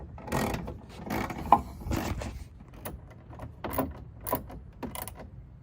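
Screws being driven in to fit a front splitter lip onto a 2019 Toyota Corolla hatchback, a run of close, uneven clicking and ratcheting taps without speech.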